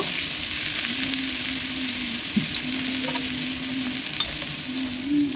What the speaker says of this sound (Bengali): সর্ষের তেল দিয়ে ওটা আমি প্রথমে পেঁয়াজ কিছুটা দিয়ে দিলাম তারপর দিয়ে দিলাম কাঁচা লঙ্কা কুচি দিয়েটা একটু নেড়ে নেব